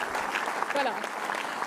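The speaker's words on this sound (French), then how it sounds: "Oui, vous pouvez applaudir." Audience applause at a political rally, a burst of clapping from a crowd heard under someone speaking French into a microphone, brief and moderately loud.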